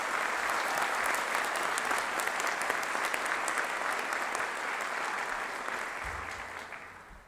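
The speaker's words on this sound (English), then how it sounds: "Can we take a moment and give a round of applause to all the family," Sustained applause fills a hall at a university doctoral hooding ceremony, a thick, even roar of many hands clapping that stays strong throughout before easing slightly at the end.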